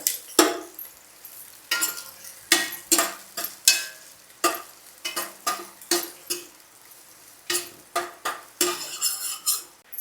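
Rhythmic scraping and clacking of a utensil stirring onions frying in a pan, repeated strokes roughly every half second over a soft frying sizzle.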